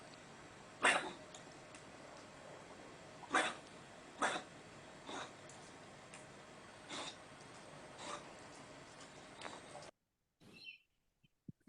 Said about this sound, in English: Paroxysmal dry cough.